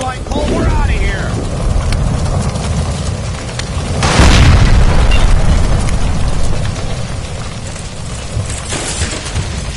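A gas line explosion in the video game L.A. Noire erupts as a loud, roaring boom about four seconds in, swelling over a dense, rumbling background of game noise and lingering for a couple of seconds before settling.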